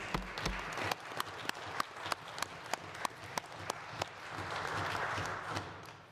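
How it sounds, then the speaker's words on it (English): Members of the Legislative Assembly of Alberta applaud veterans seated in the galleries, with sharp, evenly spaced claps over a steady wash of clapping in a large chamber, swelling toward the end, with no talk. "I ask all members of the Assembly to please give them a round of applause and acknowledgement."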